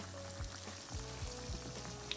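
Quiet sizzling of seasoned chicken slow-frying in a pan, Southern style, with a few soft clinks and scrapes of a utensil over the low crackle.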